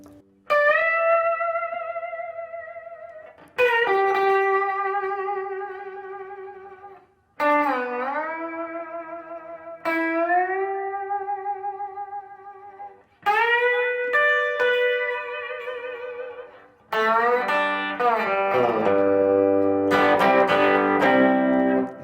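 A Gretsch electric guitar plays a series of sustained, ringing chords with bends, each struck cleanly and left to decay, building to a fuller, denser strum at the end with no voices.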